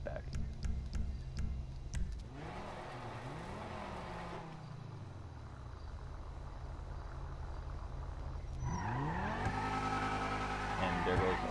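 In a video game, a car spins its wheels as it leaves a garage. The engine revs rise and fall with pitch sweeps, then it roars louder and accelerates near the end, with faint background sounds.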